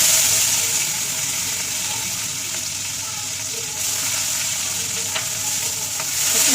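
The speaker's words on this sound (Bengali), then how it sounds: "তখন এই পেঁয়াজ কুচনো দিতে হবে" Chopped onion frying in mustard oil with whole garam masala and a dried red chilli for a katla fish-head muri ghonto, giving a loud, steady, close hiss and sizzle that runs without a break.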